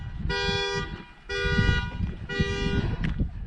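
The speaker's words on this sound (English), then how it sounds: "Oops, somebody's alarm's going off." Car alarm sounding in a parking lot, a loud electronic horn repeating in three long honks with short gaps, fairly near over outdoor background noise.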